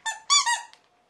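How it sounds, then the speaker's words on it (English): Small squeaky Christmas cracker dog toy squeaked in three quick, bright bursts close to the mic, then a brief faint chirp before quiet. "A little squeaky Christmas cracker."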